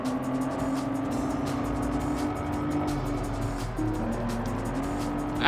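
Race cars in Test Drive Unlimited, including GT V6s, a Ford Mustang and a Ford GT350, roar past in a steady, loud engine drone with shifting pitch, alone and without talk.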